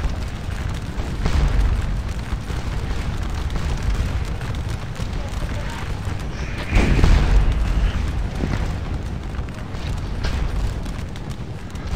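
Cannon fire in Scourge of War Waterloo, the Battle of Waterloo game, gives a couple of deep booming blasts, one near the start and a heavier one midway, over a low battlefield rumble, with a voice speaking at times.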